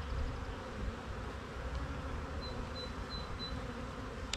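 Honey bees buzz inside a crowded queen-right starter hive, a steady close hum filling the whole stretch, with no voices.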